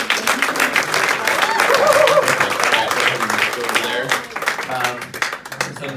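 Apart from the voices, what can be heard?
audience applause at a hypnosis show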